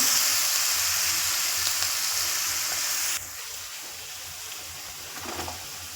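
Chopped green chilli and garlic sautéing in hot oil with asafoetida, a loud close sizzle that drops abruptly to a quieter, steadier fry partway through, with a light stir near the end.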